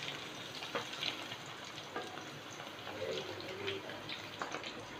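Paneer pieces frying in hot oil give a soft, steady sizzle with scattered pops and light clatter from a utensil.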